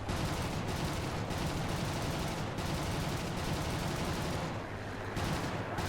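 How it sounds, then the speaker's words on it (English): Aircraft machine guns fire in War Thunder, a dense, loud, continuous rattle of rapid shots that keeps going for several seconds with only tiny breaks. "I'm just going to start shooting."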